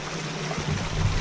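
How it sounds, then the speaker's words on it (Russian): A waterfall on a Kilimanjaro climb toward Mawenzi peak gives a close, steady rushing of falling water, with a louder low churn building in the second half. "Здесь водопад."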